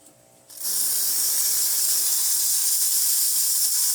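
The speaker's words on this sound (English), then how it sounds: "That's just the steamer." The steam wand of a Lelit Mara X espresso machine opens after a brief quiet moment, then gives a loud, close, continuous hiss that holds steady to the end.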